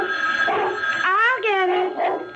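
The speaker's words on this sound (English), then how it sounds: "And the dog barked." A dog barks as a radio drama sound effect, a single rising, whining yelp standing out over a steady background hum, close and fairly loud.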